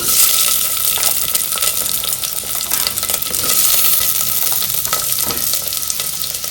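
Chopped onions frying in a hot pan for a mutton gravy, a loud, dense sizzle with crackling and occasional stirring scrapes running continuously and close up.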